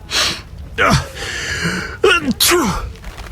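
A game character in The Witcher sneezes amid breathy vocal sounds, a sharp nasal burst standing out among gasps and short voiced utterances, close and fairly loud.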